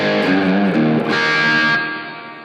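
Electro-Harmonix Cathedral reverb pedal with the blend set halfway: loud guitar notes with a few changing pitches, washed in reverb, then a sustained chord that fades gradually with no talking.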